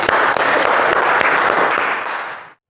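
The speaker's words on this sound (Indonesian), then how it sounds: "Tepuk tangan untuk kita semua." Audience applause at a teacher-training practice session, dense and steady from start to finish, fading out near the end with no voices over it.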